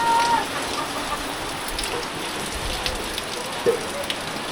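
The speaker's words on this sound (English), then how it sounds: "if you don't, the wind will blow the rain in" Wind-driven rain in a Philippine province, a continuous even hiss of rainfall on surfaces with faint gusty texture and a distant rooster, no one speaking.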